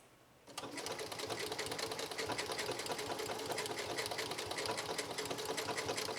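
A Janome Memory Craft 6700P sewing machine stitches at a low speed setting, its steady, even mechanical whir starting after about half a second and running on unbroken and close, with no talking.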